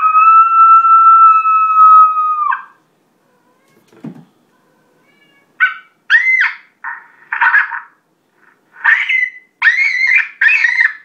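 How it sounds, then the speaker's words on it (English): An electronic predator call, the Primos Turbo Dogg, plays a coyote invitation howl: a long, loud, steady wavering howl, then a brief pause and a run of shorter, rising and falling yips and howl bursts, alone and close. "Invitation howl."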